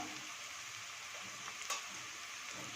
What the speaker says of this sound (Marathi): आणि हे छान असं मिक्स करून घ्यायचं